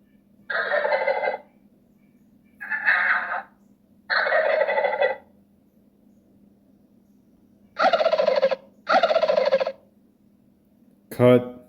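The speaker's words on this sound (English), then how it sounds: "Let's try turkeys. Let's go with a gobble." Five separate turkey gobbles from a phone game-call app, in bursts, each a rapid warbling rattle, played loud and close with short silences between them, then a brief sharp click at the end.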